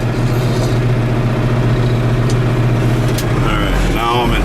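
A 1990 Case 410c backhoe's engine drones loud and close while the machine drives across a field in fourth gear, steady throughout, with a voice talking over it.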